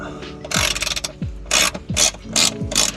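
A ratchet works a crusty bolt loose on a Volvo 940 during a fuel filter replacement, with several close bursts of rapid clicking separated by short pauses, each followed by a dull clunk.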